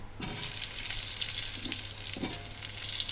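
Cut papaya drops into hot oil over a fried tempering of chilli, radhuni and cumin for bitter dal, setting off a loud, steady sizzle with a few soft stirring knocks throughout, with no talking.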